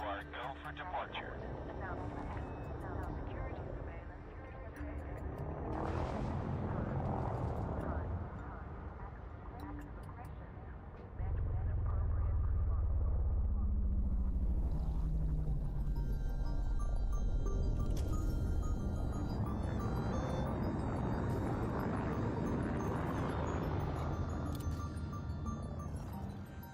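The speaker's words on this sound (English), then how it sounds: "Ship uncoupled. You are go for departure." A spaceship in the video game Elite Dangerous departs, giving a low engine rumble that swells into a loud, sustained roar partway through, with faint electronic tones and a radio-style voice heard under it.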